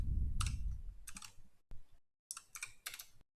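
Keys clatter on a computer keyboard as a command is typed into a terminal, a few quick close bursts of clicks separated by brief gaps.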